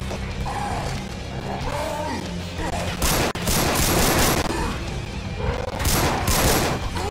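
Loud, dense crashing and gunfire-like bursts as a tank smashes a turret in Left 4 Dead 2, with heavy impacts around the middle and near the end, under chaotic game noise and voices.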